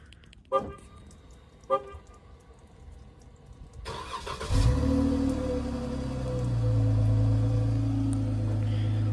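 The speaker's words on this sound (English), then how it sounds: "this exhaust on this car actually sounds quite good" Two clicks, then a 2013 Chrysler 300 AWD Touring Limited engine cranks and fires up, settling into a deep, steady exhaust rumble at idle, heard from the rear.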